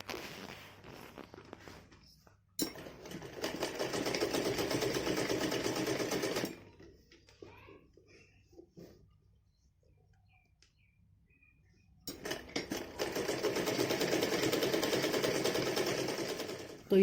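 A sewing machine stitches fabric for a baby's Holi dress in steady bursts, running for a few seconds, pausing through a quiet stretch, then starting up again close and loud.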